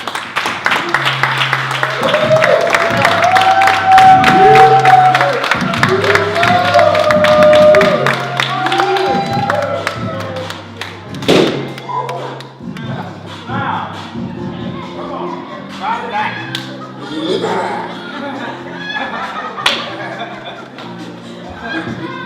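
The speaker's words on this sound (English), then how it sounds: "I think he really deserves a serious applause" Applause and crowd noise at a youth basketball team banquet honoring a player, loud clapping and chatter swelling early then fading into scattered claps and murmuring, with a voice speaking over it.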